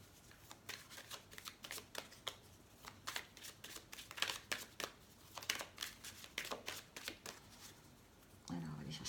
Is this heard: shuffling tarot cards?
yes